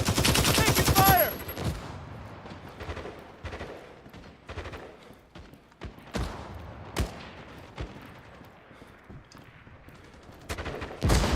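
Gunfire in a Cold War-era multiplayer shooter game, bursts of automatic weapon fire and sharp single shots crackling close by, irregular and loud, with players talking over some of it.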